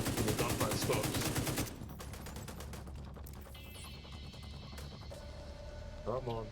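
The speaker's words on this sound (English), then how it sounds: "let me just stop the gunfire when the gunfire stops" Rapid bursts of gunfire from Tom Clancy's The Division 2 rattle loudly at first, then fade into quieter game sounds and electronic tones.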